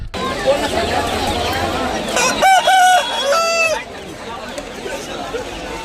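A rooster crows loudly in two drawn-out bursts amid the constant chatter and bustle of a crowded bird market on Galiff Street, Kolkata.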